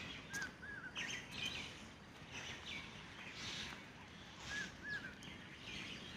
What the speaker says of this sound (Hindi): अगर आप सुन सकते हैं तो यहाँ पर पक्षियों की आवाज़ सुनिए।